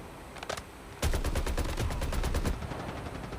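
Rapid bursts of automatic gunfire in the Call of Duty Mobile battle royale, loud and close, starting with a brief burst and then a sustained stream of shots for about a second and a half.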